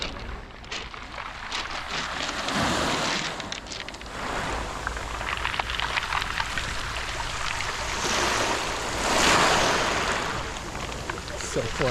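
Ocean waves on the shore at Nice, France: a continuous washing surf with swells that rise and fall, a louder rush near the end, plus wind and outdoor bustle in the background.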